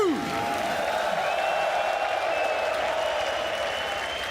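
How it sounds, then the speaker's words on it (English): A packed Royal Arena crowd in Copenhagen applauds and cheers during the PGL CS2 Major playoffs in 2024, a dense, steady roar of clapping that fills the hall without letup for several seconds. "You have been amazing, Royal Arena. Give it up for Nico and G2."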